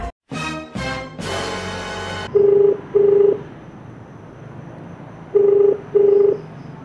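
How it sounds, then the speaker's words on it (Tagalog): A telephone call being placed: a few quick tones, then a steady dial tone, followed by two pairs of ringback tones repeating with a pause between them. "Tumatawag po ngayon sa Ate Cynthia"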